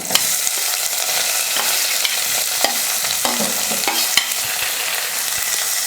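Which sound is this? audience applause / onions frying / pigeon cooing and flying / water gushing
onions frying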